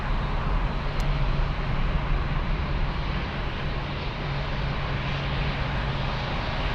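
A Lufthansa airliner at Frankfurt airport produces a loud, steady broadband jet roar with a low hum underneath, sustained evenly throughout.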